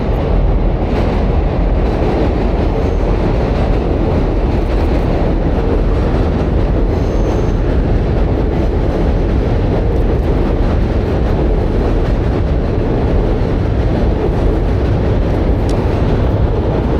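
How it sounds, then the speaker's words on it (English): A train rumbles past on a commuter line with a city view, a loud, steady roar of wheels and cars that stays constant for the whole stretch, with no voices. "Trains."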